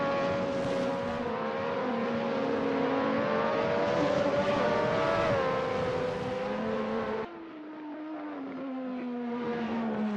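A Lotus 98T race car engine screams through a lap of Donington Park in a racing game, high harmonic whine climbing and holding, then abruptly dropping to a lower note before building again, loud and alone.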